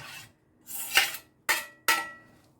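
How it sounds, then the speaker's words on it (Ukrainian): Grated zucchini, three potatoes, onion and garlic being mixed in a bowl, giving a few separate scraping, clattering bursts of utensil against the bowl with short pauses between, close and fairly loud, with no talking. "а це все висипну миску і буду замішувати зараз"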